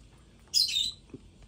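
A pet bird gives a single short chirp, bright and fairly close, against quiet room noise.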